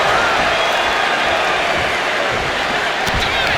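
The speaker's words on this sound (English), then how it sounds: "What a raucous crowd here tonight." A dense, steady roar of an arena crowd cheering at a Raw wrestling event in the WWE 2K25 video game. The cheering is loud and continuous throughout, with faint thuds and impacts mixed into the din.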